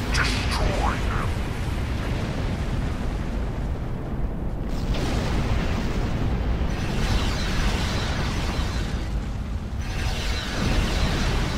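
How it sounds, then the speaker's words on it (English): Heavy explosions rumble and burst almost without pause as a starship comes under attack in the space game Star Trek Online, a loud, dense barrage with game voice lines over it. "Warning, ship is under attack."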